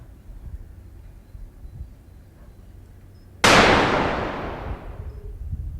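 A single loud rifle shot fired at roe deer on a hunt in the south of France breaks a quiet outdoor hush, sharp and close, followed by a long rolling echo that fades slowly.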